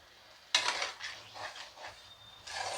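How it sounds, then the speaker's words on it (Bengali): A spoon stirs drumstick and sesame curry in a pan, giving soft scraping and clinking strokes that start abruptly and come in uneven bursts, close and fairly quiet, with no talking. "এটা ভালো করে নেড়ে"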